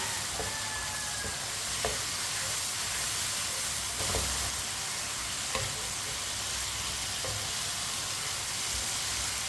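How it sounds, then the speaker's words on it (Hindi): Tinda (round gourd) fries in a pan for tinday ki sabzi, a constant hissing sizzle with a few faint scrapes of stirring spaced through it. "दो मिनट के लिए फ्राई कर लिया मैंने टिंडू को भी"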